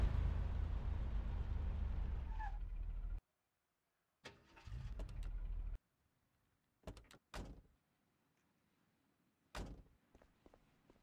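A car in the Mafia video game, an expensive car used for a getaway: a loud engine idle or rumble cuts off abruptly, then a short engine burst, a door-like thunk and several sharp clicks or bangs follow against near silence.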